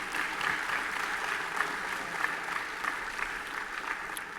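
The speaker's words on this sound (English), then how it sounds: "Give yourself a round of applause." Sustained applause from an audience at a career education recognition and awards ceremony, dense and even clapping at moderate volume throughout with no talking over it.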